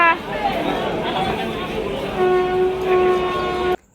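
A train rumbles by with a long horn blast near the end, while people chatter nearby; the sound cuts off abruptly.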